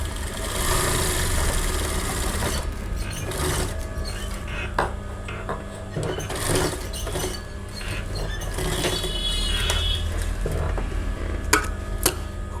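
A sewing machine stitches a blouse collar right beside the buckram stiffening, its motor whirring steadily and evenly for the whole stretch, with small mechanical clicks and a few sharp ticks near the end, and no one talking.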